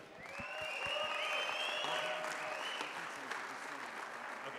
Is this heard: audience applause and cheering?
yes